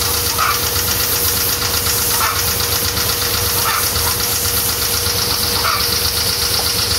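A steady, loud motor drones throughout with a rhythmic knocking pulse, a small engine running a water pump continuously nearby to wash cattle.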